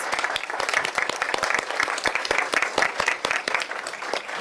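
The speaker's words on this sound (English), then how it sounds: "Can we get a round of applause again for all these special kids?" At a board of education public session, an audience applauds student award recipients with brisk, fairly loud clapping whose individual claps stand out in a quick irregular rhythm, with faint voices underneath.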